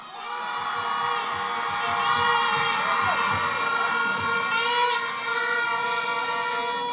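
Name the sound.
crowd cheering at outdoor public meeting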